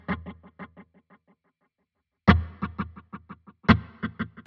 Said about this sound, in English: Now I know there is a tape delay in here and you get a similar thing